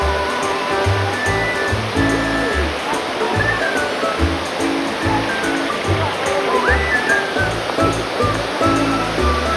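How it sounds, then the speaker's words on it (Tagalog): Water pours steadily over Dampalit Falls beneath Mt. Makiling, a strong current roaring in a continuous broadband rush, with people talking over it throughout. "The water current is strong right now."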